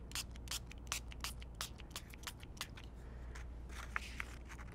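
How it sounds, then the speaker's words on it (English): Marina Mist ink spray is spritzed onto paper in a rapid series of short, close pumping hisses, about a dozen quick bursts, quiet and without talk. "Spritzing is another option with a little bit of Marina Mist."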